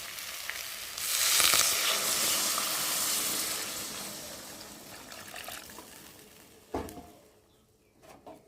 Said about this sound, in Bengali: আর এখন আমি জল দিয়ে দেবো।